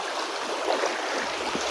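Water gushing from a burst pipe, spreading knee-deep; a steady broadband rushing hiss with a few gurgles, continuous and fairly close throughout.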